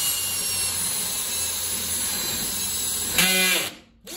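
A high steady whine of a power drill runs continuously, then briefly shifts in pitch and cuts off near the end.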